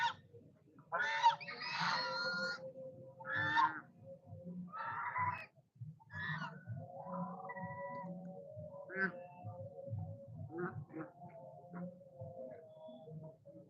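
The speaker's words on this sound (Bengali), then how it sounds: "রাজহাঁসের ডাক, প্রথমবার দেখো।" Geese calling on a pond beside a Durga Puja pandal, a run of loud, nasal honks close by, some calls overlapping, then quieter drawn-out calls over a low murmur of background noise.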